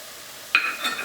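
An egg cracked against a bowl and dropped into broth: one sharp close crack followed by a brief wet splash and drip, with no voices.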